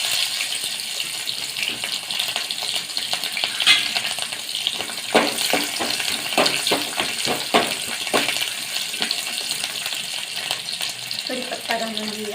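Mustard seeds, garlic and green chili sizzle in hot oil for a pumpkin kadhi, giving a steady loud crackling fry broken by sharp popping bursts as the seeds spatter, close and continuous throughout.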